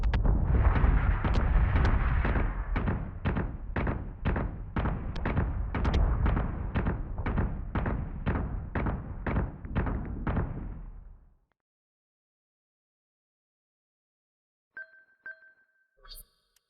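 Incoming missiles in the video game Battlestar Galactica Deadlock explode in a fast, evenly spaced string of loud booming blasts that fill about eleven seconds, then cut to near silence broken by a few faint electronic blips.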